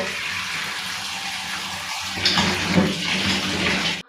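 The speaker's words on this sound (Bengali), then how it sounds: "এবার আমি কুমড়ো আর আলু ভালো করে ধুয়ে নেব" Chopped pumpkin and potatoes being washed under running water, a continuous gushing and splashing that swells louder midway as the pieces are stirred, with no talking.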